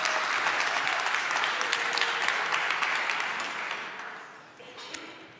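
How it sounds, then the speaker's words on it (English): Conference attendees at NG-DE Berlin 2025 give a round of applause, loud crowded clapping that gradually thins and fades out over about five seconds. "So you can give yourself a big round of applause"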